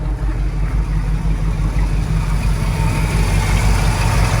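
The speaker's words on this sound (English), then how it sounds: "But just listen to this motor." The engine of a 1979 Ford Super Cab 4x4 pickup with dual exhaust idles close by, a steady, deep, even rumble with no speech over it.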